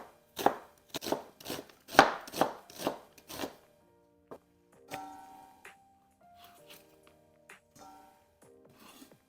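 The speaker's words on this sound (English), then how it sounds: "We're gonna cut up the onions for the beef." A knife chops onions on a cutting board, with a quick run of about eight sharp, close strokes. Softer clinks and rustling follow.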